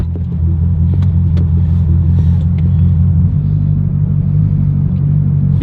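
Wrecked Corvette Z06 engine running rough with a deep, pulsing low boom, loud and steady throughout with a slight shift in tone partway.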